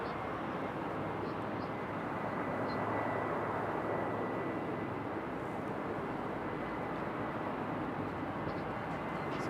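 Southwest airliner arriving from Fort Lauderdale at Raleigh-Durham International Airport, a steady broad jet roar of moderate loudness held throughout, swelling slightly in the middle as it passes.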